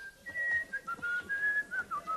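A person whistles a short, wavering tune, faint and close, in quick bright notes with brief pauses between phrases.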